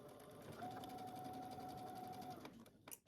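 A sewing machine runs steadily for about two and a half seconds while back stitching the shoulder seam of a Simplicity 9550 garment at a 5/8 inch seam allowance, then stops with a few small clicks.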